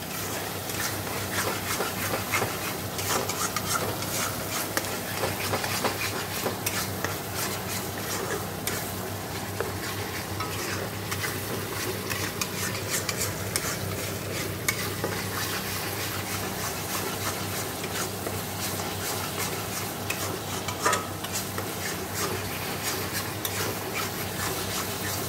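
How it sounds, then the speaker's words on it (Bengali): Masala for a prawn curry frying and being stirred in a pan, a steady close sizzle with continuous scraping and stirring that runs unbroken throughout with no talk. "দেখো মশলাটা কষিয়ে নিলাম, মাংসের মশলা যা লাগে তাই দিয়েছি।"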